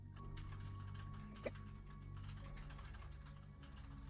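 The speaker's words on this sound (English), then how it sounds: "You're hearing my typing." Typing on a mechanical keyboard carries quietly and continuously in the background of a live online game session, with soft irregular clicks and one slightly louder tap midway, no talk.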